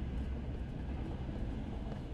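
A train ride in the horror video game Reveil gives a steady, dense low rumble with rattling wheel and carriage noise that holds at an even loudness throughout, with no voices over it.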